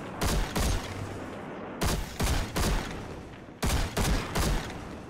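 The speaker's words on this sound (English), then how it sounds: "Probably should have reloaded my scout rifle before I started" Scout rifle fire from Destiny 2 in a shooting-gallery setting: three loud bursts of several sharp, evenly spaced shots each, separated by short pauses, close and dominant with no talking.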